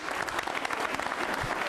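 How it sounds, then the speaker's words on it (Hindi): Quiz show audience on organ donation applauding Shambhu Dayal, a brief burst of dense, close clapping from a crowd that runs steadily to the end without voices. "तालियां बजाओ शंभू जी के लिए।"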